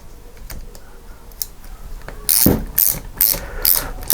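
A socket ratchet tightening a bolt on a classic Fiat 500 starter motor during a workbench rebuild, giving rapid pawl clicks in short bursts, close and fairly loud, with no talking.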